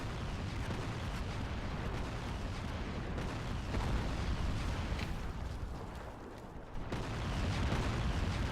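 Grenades explode in a History Channel war video game, a dense, continuous roar of rumbling blasts and booms, loud and sustained, with a brief dip near the end.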